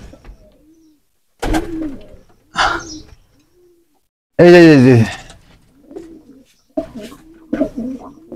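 Pigeons cooing in a rooftop loft, several separate rounded coos and one long loud call, close by, with short bits of a man's speech in between.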